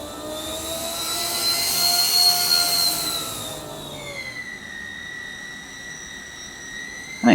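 The engines of the Justflight Viscount airliner in the Prepar3D flight simulator give a loud, steady turboprop whine with sliding high-pitched tones that shift partway through, sounding alone without talk.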